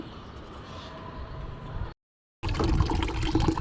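Tap water runs over a bitter gourd as it is washed, a dense gushing stream that cuts out briefly and then returns slightly louder.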